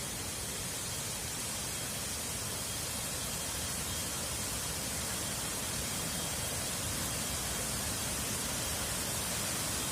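Seven-tier waterfall at Pak Chong, a steady broadband rushing roar of falling water that stays constant and fairly soft throughout, with no voices over it.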